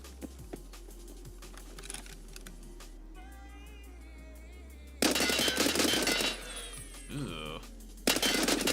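Bursts of automatic gunfire from a video game during a gun recoil test, with loud rapid volleys near the middle and again at the end, and quieter clicking and game sounds between them.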